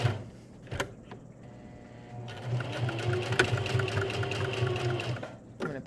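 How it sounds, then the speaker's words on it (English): A sewing machine stitches orange thread around a felt mask piece, running in a steady fast mechanical whir for several seconds after a few short starts, close and clear with no talk. "I'm going to sew this and then I'll show you what it looks like when I'm done."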